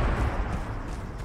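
A video game explosion in the air gives a dense, steady low rumble with broadband noise, loud for over a second and no talk.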